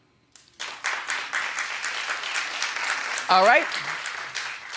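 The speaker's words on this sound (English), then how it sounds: "Clap if you believe her." A talk-show studio audience breaks into sustained clapping after a brief silence, the applause running to the end while a voice speaks over it.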